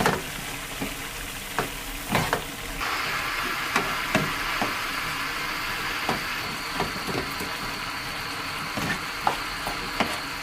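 Sauce with gochujang, a splash of water and vegetables stir-fried in a frying pan, a steady close sizzle broken by repeated scraping and tapping of a utensil against the pan, with no talk.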